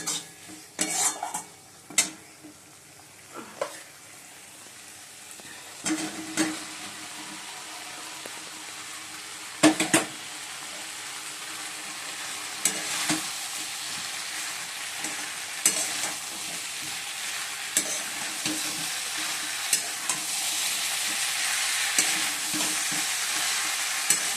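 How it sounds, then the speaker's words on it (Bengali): Cauliflower and potato hit hot spice paste in a pan, with a continuous sizzle and frying hiss that grows louder. Intermittent spatula scrapes and clanks against the pan come close up. "বন্ধুরা মশলাটা ভালো করে কষে নিয়েছি, এবার ফুলকপি আলু"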